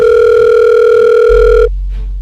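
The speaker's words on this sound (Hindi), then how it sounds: "संजीत का फोन नहीं लग रहा।" A telephone dial tone drones loud and steady as a call fails to connect, then cuts off abruptly, leaving a low hum behind.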